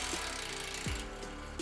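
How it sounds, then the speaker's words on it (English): A ratchet loosens the upper control arm nut on a Ford F-150 in a steady run of faint, rapid clicks. A brief low thud sounds partway through, and no one speaks. "start to remove the upper control arm nut, but only loosen it down to the last few threads"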